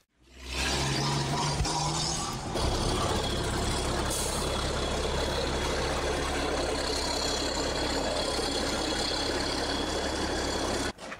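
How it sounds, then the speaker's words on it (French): A MAN race truck under test makes a loud, dense, steady engine roar with hissing air, a short burst near the start and a constant rumble after it, with no voices. "il est en train d'essayer son camion de course, c'est lent"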